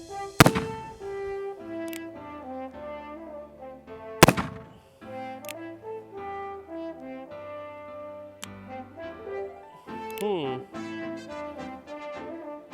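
An Uberti Remington New Model Army cap-and-ball revolver fires several sharp, loud reports, the strongest near the start and again about four seconds later. Sustained tonal sound runs underneath the shots.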